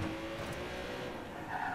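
A car in the Watch Dogs 2 video game racing and skidding, with a continuous engine roar and tire squeal heard close and fairly loud, without talk.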